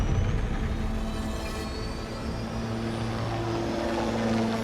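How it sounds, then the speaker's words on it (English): A military helicopter flying, its steady rotor and engine drone loud and continuous throughout, with a low humming tone underneath. "Then, suddenly, the helicopter stabilizes, and Captain Jesse"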